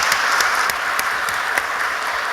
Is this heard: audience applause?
yes